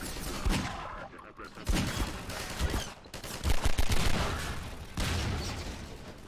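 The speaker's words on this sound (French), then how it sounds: "Ça tire." Repeated gunfire bursts in the video game Half-Life 2, loud, dense volleys of shots clustered in several bursts with brief lulls between them.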